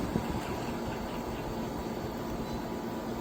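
A ZAFRO 10000 BTU 3-in-1 portable air conditioner runs with a steady, even whir of fan and airflow noise, a constant broadband hum that holds level throughout with no voices.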